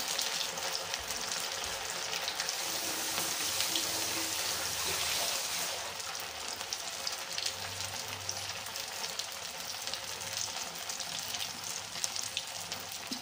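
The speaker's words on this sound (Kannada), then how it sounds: "ನೋಡಿ ಒಡೆ ಬೇಯ್ತಾ ಇದೆ" Sabudana vada sizzle as they fry in hot oil, a steady, soft crackling hiss that continues evenly throughout with no voices.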